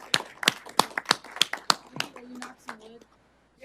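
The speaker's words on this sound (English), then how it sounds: "I want to give a round of applause to our warehouse partners for excellent" A small group at a utility board of trustees meeting gives a short round of applause, a handful of distinct, close claps in an uneven rhythm that thins out and stops, with brief voices underneath.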